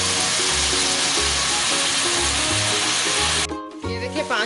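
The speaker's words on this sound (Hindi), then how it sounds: "चिकन हमारा फ्राई हो रहा है।" Chicken frying in a pan for a spicy restaurant-style chicken handi, a loud dense continuous sizzle with a brief dip near the end before the crackling resumes.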